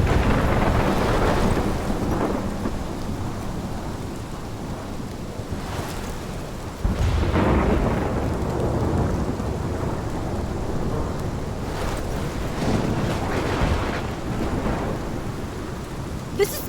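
Video game thunderstorm in Life Is Strange: heavy rain pours steadily throughout while deep rumbles of thunder roll in, with a sharper crack partway through, loud and enveloping with no voices.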